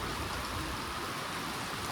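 Steady rain pours down in a dense, unbroken hiss, close and even throughout the short stretch.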